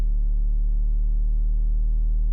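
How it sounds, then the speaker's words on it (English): A distorted sub bass tone drones low and loud, holding steady for about two seconds with a dense stack of buzzing harmonics above a deep fundamental. "That's just a sub bass there."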